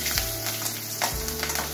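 Black cumin seeds and slit green chillies temper in hot oil, a steady close sizzle with faint crackle and a couple of soft low thumps.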